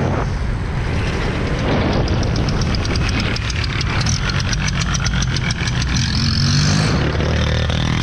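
Motorcycle engine running loud and continuous at a street motorcycle meet, a steady rough roar with a throbbing, pulsing texture in the middle section and no break for the full length.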